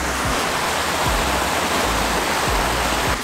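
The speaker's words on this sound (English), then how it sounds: "So here's a little creek crossing that we're going through." A 2023 Ford F-150 Lightning electric pickup fords a small creek, giving a steady rushing, splashing wash of water with a few low thumps underneath, close and continuous, with no talk.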